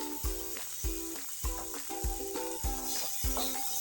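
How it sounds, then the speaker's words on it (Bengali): Chickpeas frying with spices in a pan for pumpkin chokka, a steady close sizzle with rhythmic scraping stirs roughly every half second. "আর ছোলাগুলো এবার আমি এটা ঢেলে দেবো।"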